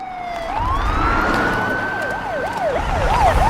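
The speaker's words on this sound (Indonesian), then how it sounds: "tiba-tiba saja ambulans dan polisi pun lewat" Ambulance and police car sirens pass by loudly, one steady wailing tone rising and holding, then a faster yelping siren oscillating in quick sweeps toward the end, with low traffic rumble underneath.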